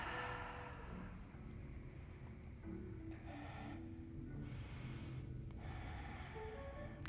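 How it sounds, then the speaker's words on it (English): Long, loud breaths drawn in and pushed out during a vinyasa yoga flow, heavy and audible against a steady background hum. "Long, loud inhales. Long, loud exhales."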